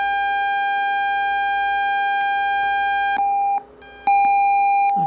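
A Morse code CW tone generated as a sawtooth waveform sounds as a loud, buzzy, harmonic-rich steady tone, briefly dropping out and returning with a few clicks near the end.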